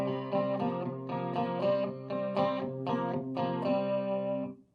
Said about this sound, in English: What if I use my chorus pedal?